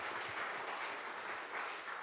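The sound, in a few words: audience applause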